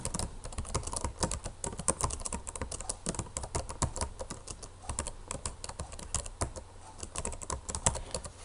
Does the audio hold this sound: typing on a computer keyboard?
yes